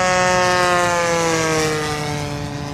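An E-flite Night Radian RC glider's electric motor whines steadily as it comes in to land on grass, a loud, nearby tonal drone that sags slightly in pitch and fades a little toward the end.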